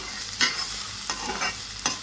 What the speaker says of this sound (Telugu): కొత్తిమీరలో వాటర్ అంతా వెళ్ళిపోయే వరకు అయిపోయే వరకు కూడా వేగనివ్వాలండి